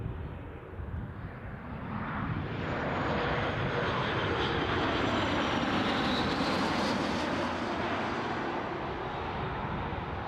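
An Embraer ERJ 145 jet at Newcastle International Airport roars past, its engine noise swelling from a distant rumble to a loud, broad whine and then easing slightly as it passes.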